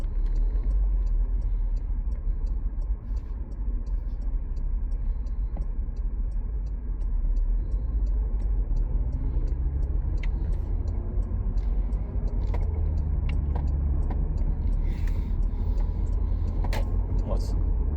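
A car with an overheating problem idles at a traffic light, a steady low engine rumble filling the cabin throughout, with faint ticks and light interior noise on top.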